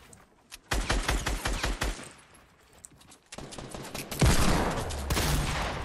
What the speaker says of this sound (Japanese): なんかよくわかんねえ武器で撃ってるよ、一人